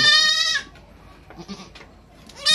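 Goats and sheep on a farm let out loud, nasal bleats at the start and end, separated by a quieter stretch of faint rustling and distant noise.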